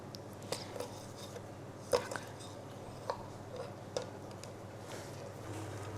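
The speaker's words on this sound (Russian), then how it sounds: "Я буду продолжать нарезать все остальное." Quiet, irregular knife taps on a cutting board as dried fruit is chopped, a few sharper chops standing out, no talking.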